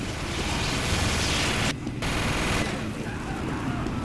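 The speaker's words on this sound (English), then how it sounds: "Why are you shooting at me?" Continuous heavy gunfire and explosive blasts in a Team Fortress 2 match, dense and loud throughout with a brief gap near two seconds, a voice faintly underneath.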